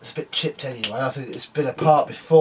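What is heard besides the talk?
No everyday noises stand out.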